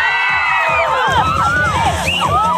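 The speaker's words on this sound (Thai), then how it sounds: "ขอเสียงกรี๊ดหน่อย" A children's day crowd at an outdoor school event bursts into loud screams, whoops and cheers for a few seconds, with many high voices overlapping.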